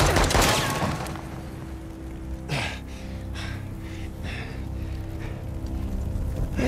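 Gunfire in the video game Uncharted: The Lost Legacy, a sharp burst of shots followed by a few scattered reports over a steady rumbling game soundscape, with no talk.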